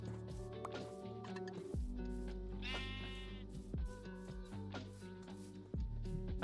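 Sheep bleating in the Minecraft video game, a wavering bleat rising clearly over steady game music and background effects, with soft footstep-like thuds around it.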